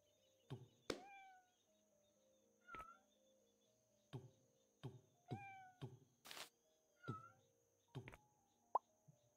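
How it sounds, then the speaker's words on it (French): Cartoonish cat meows in the video game Hidden Cats in Town, about a dozen short separate calls spaced across the clip with soft plops and clicks between them, clear and alone over quiet. "c'est pas possible, c'est un chat ça"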